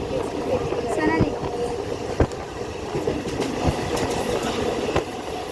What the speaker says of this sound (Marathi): आता आम्ही चढलोय ट्रेनमध्ये